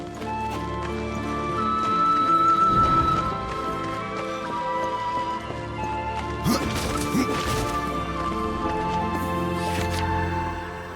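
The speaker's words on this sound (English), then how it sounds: "This is no place for a horse." Horse in the Darksiders II video game, with clopping hooves, heavy impacts and a whinny over a sustained orchestral score, busy and loud throughout.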